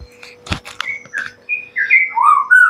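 White-rumped shama calling up close in a quiet setting, a run of sharp clicks and harsh chatter that gives way to clear, rising and falling whistled phrases, growing louder toward the end.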